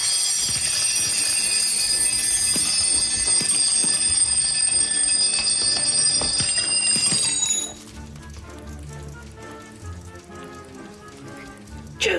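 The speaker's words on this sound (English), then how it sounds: "To pass, you must have switched off all of the alarm clocks at the end of 90 seconds" Several alarm clocks ring together in a dense, steady metallic jangle for about seven seconds during a timed switch-off challenge, then cut out abruptly, leaving quieter rattling and room noise.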